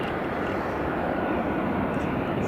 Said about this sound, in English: here comes the Ryanair